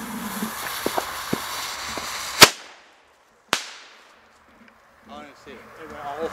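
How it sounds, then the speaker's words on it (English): Fourth of July backyard fireworks: two sharp, loud bangs about a second apart, each ringing out into a fading echo, after a few lighter pops and crackles under outdoor background noise, with voices at the end. "That's all the fireworks we have."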